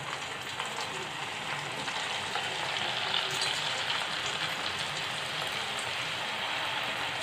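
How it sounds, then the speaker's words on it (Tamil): French fries deep-frying in hot oil on high flame, a continuous close bubbling sizzle that holds steady throughout with no talking. "இது மாதிரி கொஞ்சம் கொஞ்சமாக சேர்த்து பொரித்து எடுத்துக்கலாம்."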